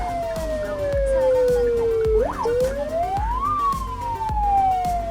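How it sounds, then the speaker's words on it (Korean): An ambulance siren wails, sweeping up and down continuously, loud and close, over steady traffic rumble with no talking. "잠깐 앰뷸런스가 와서 비켜줘야 될 것 같습니다."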